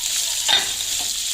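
Onion and tomato sizzle and fry in a pan for a cauliflower potato curry, a steady close hiss with a brief stirring scrape in the middle.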